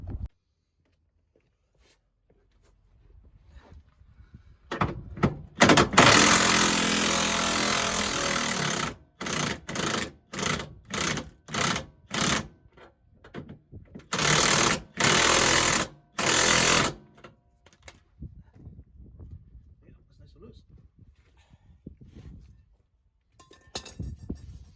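Impact wrench undoing the drive shaft nut on a VW Transporter T4 during an outer CV joint replacement: a long loud rattling burst followed by a string of short hammering bursts, then faint metallic handling sounds.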